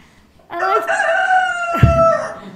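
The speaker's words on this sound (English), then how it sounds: "rooster's jealous" A rooster crows once, loud and close, in a long drawn-out call lasting about two seconds.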